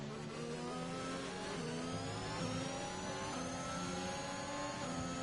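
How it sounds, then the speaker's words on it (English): A race car engine revs up and down in quick, uneven bursts as the throttle is blipped while searching for grip, a steady buzzing drone at moderate distance. "you can hear a lot of feathering of the throttle"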